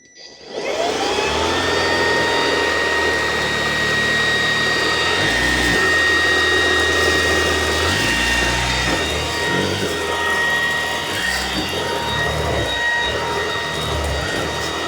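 A vacuum cleaner runs with its motorized head, a loud, steady, close whine with a rushing airflow that lasts throughout. A few brief dips and surges come as the head is pushed across the floor.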